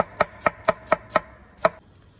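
A knife chops radishes sharply on a cutting board, six crisp evenly spaced strikes, close and clear, followed by a faint high tone.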